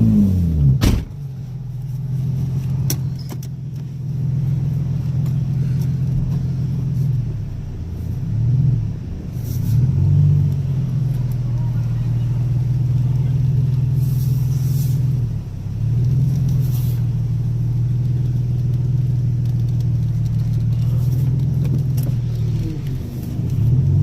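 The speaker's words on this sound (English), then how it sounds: "I'm gonna see if the car can drive on the coilovers as it is." A widebody Nissan 350Z rolls along on coilovers with its air suspension removed, its engine holding a steady low rumble close by, with brief dips and surges as the throttle eases and picks back up.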